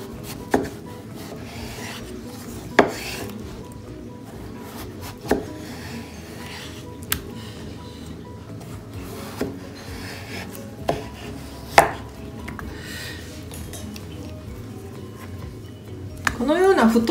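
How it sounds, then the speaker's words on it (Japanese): A kitchen knife cuts through thick zucchini pieces for chips, giving sharp, separate chops spaced a second or two apart on a board, close and distinct, while a person talks quietly in between. "このような太いところは包丁の方が切りやすいですね。"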